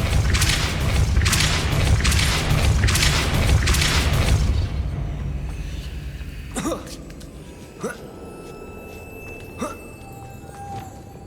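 In Hogwarts Legacy, the Depulso spell fires as a series of rapid, loud booming pulses for several seconds. They fade into quieter ambience broken by a few sharp magical whooshes.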